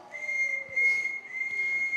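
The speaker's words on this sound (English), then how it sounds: "A whistle." A referee-style whistle is blown during a high school stage performance of a Sherlock Holmes play, giving one steady, shrill, sustained tone that lasts about two seconds with little variation, heard clearly without speech.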